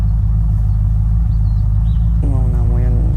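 Car engine from the video game Unturned, a steady low rumble droning loud and continuous under faint voice-like harmonics near the end.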